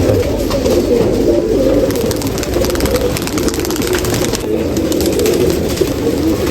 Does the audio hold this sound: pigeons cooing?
yes